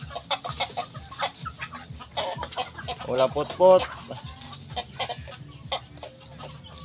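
Shamo roosters fighting over a hen, heard as repeated clucks and sharp squawks with scuffling bursts that peak mid-clip, while someone talks over them close by.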